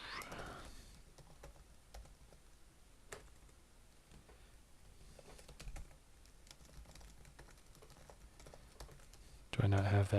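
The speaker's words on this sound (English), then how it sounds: "I can just type them over." Fast, irregular typing on a computer keyboard while setting up a Next.js and tRPC project, the key clicks fairly quiet and close, with a louder burst of sound at the end.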